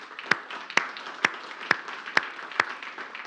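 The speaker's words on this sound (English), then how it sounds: "So round of applause for them." Slow, spaced claps at a business event in Finland, about six sharp isolated hand claps at a steady rhythm over faint room noise, like a single person clapping alone.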